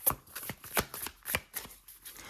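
Tarot cards being shuffled by hand, a quick series of soft riffling flutters and taps at a steady rhythm, close and quiet, with no talking.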